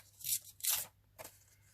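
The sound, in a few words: tearing collage paper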